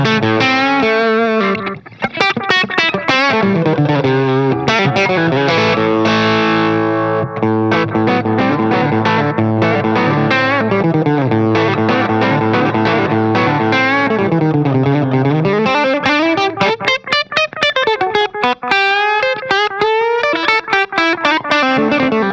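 Fender Player Plus Meteora electric guitar played through effects, loud and continuous with sustained chords and sliding, bending lead lines, a twangy country style with a slightly driven edge, no talk.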